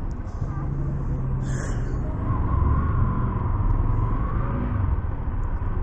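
Road traffic rumbles steadily nearby on a street, a low continuous drone of passing cars with a faint engine tone rising midway and occasional brief hisses and clatters.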